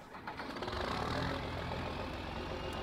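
A John Deere 4320 tractor engine idling in Farming Simulator 22, a steady low diesel rumble with a slight knocking texture that holds level throughout, heard close with no talk.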